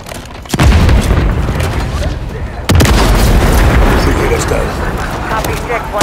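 Deep booming blasts from a SAM turret in Call of Duty: Modern Warfare III, two sharp onsets followed by rumbling, continuous explosive noise with voices speaking over the combat.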